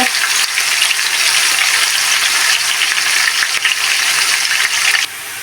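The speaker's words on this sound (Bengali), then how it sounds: "পেঁয়াজগুলোকে একদম গোল্ডেন ব্রাউন কালার করে ভেজে নেব" Chopped onions frying in hot oil until golden brown, a loud, steady, close sizzle that fills the whole clip with no speech.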